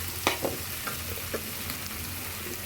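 Spinach curry fries in a pan over a medium flame, a soft continuous sizzle broken by a few sharp stirring clinks and scrapes near the start, close and fairly quiet with no talking.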